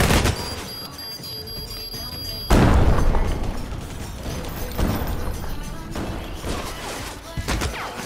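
A grenade explodes in a PS VR2 shooter game, a sudden loud boom followed by rumbling gunfire and further bursts, with people talking over the game sound.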